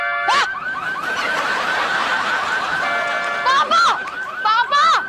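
A malfunctioning car alarm sounds with rapid warbling electronic tones and sweeping whoops, loud and close, while people talk and laugh over it.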